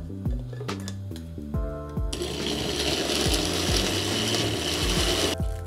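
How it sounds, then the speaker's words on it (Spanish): A blender purées huancaína sauce for papa a la huancaína: a few short pulsing motor bursts, then a sustained loud whirring blend that runs steadily before cutting off near the end. "Y procedemos a licuar."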